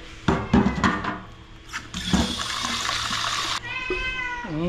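Tap water pours in a steady broadband rush while a pet's food bowl is rinsed, following a couple of cat meows and handling clatter, then the flow cuts off abruptly near the end.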